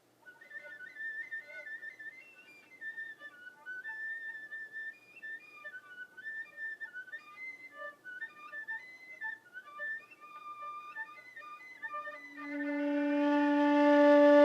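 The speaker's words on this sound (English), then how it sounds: "I'm gonna leave the microphone here so you can hear the whistle tones" A flute plays whistle tones on first-octave D: thin, faint, wavering high pitches that flicker and break, followed near the end by a fuller, louder sustained flute note.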